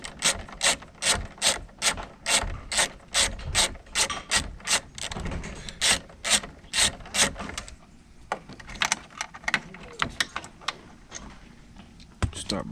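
Rapid ratchet wrench clicks in quick regular bursts as bolts are loosened by hand on a 2005 Chevy Tahoe during a tow mirror install, close and loud, then slower scattered clicks and handling noises.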